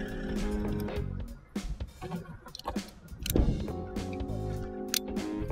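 Film being loaded into a Rolleiflex SL66SE medium-format camera: close mechanical clicks, spool handling and small metallic rattles in a busy, irregular run of handling noises, with no talk.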